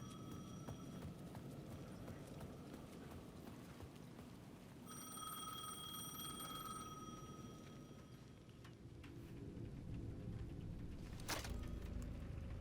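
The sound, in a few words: payphone ringing in video game Alan Wake 2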